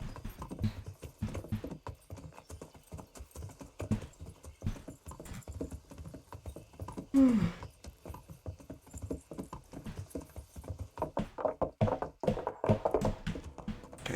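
Steady clip-clop of a horse's hooves from Kingdom Come: Deliverance, a medieval video game, repeats at a brisk even pace up close, with a short louder swell near the middle before the trotting continues.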